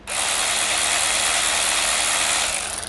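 A Kamolee ratchet wrench clicks loudly and rapidly. Its dense mechanical ratcheting runs without a break for about three seconds, close up, with no other sound.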